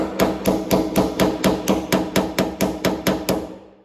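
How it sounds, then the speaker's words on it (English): A hammer strikes vice grips clamped onto the lip of a part on a 1987 Bronco II truck: about a dozen sharp metallic blows in a steady, even rhythm, close and loud, with no talking. "take a pair of vice grips, put it on the little lip there, and then grab the hammer"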